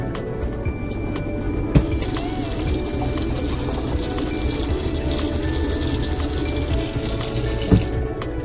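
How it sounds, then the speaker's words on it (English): A newly installed household water pump runs while water rushes steadily through the house plumbing, a constant hiss broken by two brief knocks. "Turn the water pump on in here."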